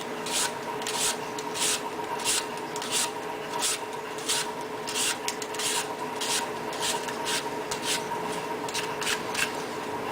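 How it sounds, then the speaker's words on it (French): Someone peels an apple for a clafoutis, the blade producing a rapid series of short rasping scrapes, close and fairly quiet, with no talking. "on fait pareil avec la deuxième pomme, on l'épluche aussi."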